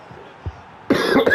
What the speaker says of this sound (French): Excusez-moi, je tousse beaucoup